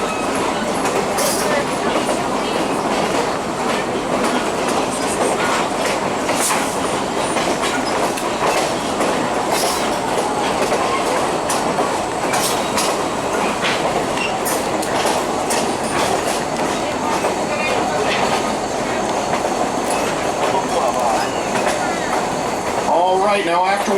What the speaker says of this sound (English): you are experiencing a ride in this very historic car that helped to shape how Philadelphia commuters ride to work each morning